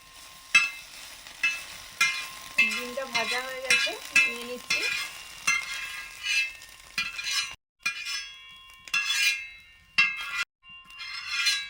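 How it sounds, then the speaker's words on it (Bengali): Egg frying with paneer in a pan while making rolls: a soft sizzle under a run of spatula scrapes and taps, with several brief clinks of metal. "পনির দিয়ে ডিমটা ভেজে নিচ্ছি"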